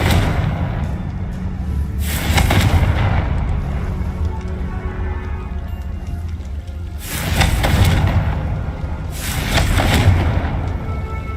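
Three loud, broadband explosive bursts from the Confringo fire spell in Hogwarts Legacy, each a booming blast lasting about a second, spaced several seconds apart over continuous low game ambience, with no voices.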